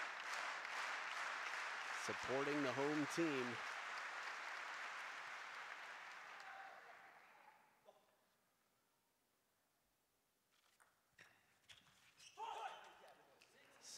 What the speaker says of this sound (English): Slow clap starting at 6 each.